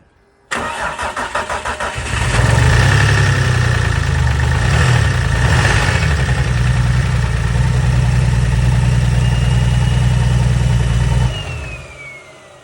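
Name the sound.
BMW S52 turbo engine running, exhaust dump rattling against fender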